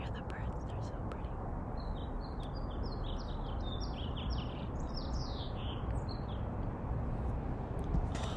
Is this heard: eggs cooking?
no